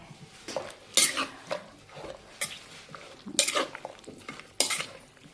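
Spicy Thai instant noodle salad tossed with chili powder, pineapple, corn, crab stick and pork sausage, stirred by a utensil in a bowl in several sharp, irregular scraping clinks against quieter mixing noise.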